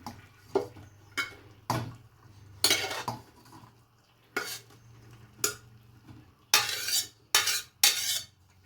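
Boiled grains are drained through a perforated strainer set over a metal vessel in a kitchen, giving intermittent clattering knocks and scraping splashes spaced a second or so apart, fairly quiet with no talk.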